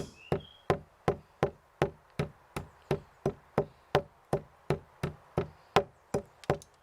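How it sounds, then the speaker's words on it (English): Steady pounding in a mortar as pepper, celery seeds, cumin and myrtle berries are crushed, a regular series of about twenty close, crisp knocks roughly three per second, alone with no talk. "First, we grind in the mortar the spices."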